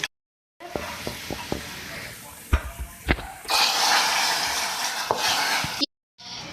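Cumin seeds dropped into hot oil for a chicken karahi and daal meal: a few sharp clatters and taps first, then a loud, dense sizzle that surges up and holds before cutting off abruptly, close to the pan.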